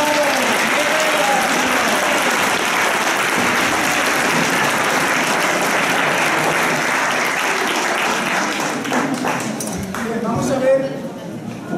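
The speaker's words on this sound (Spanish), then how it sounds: "Así que un aplauso a los dos" Sustained audience applause at a historical fencing demonstration from the era of Don Quijote in Almansa, a dense even wash of clapping from a crowd that thins out near the end, with a voice heard briefly over it.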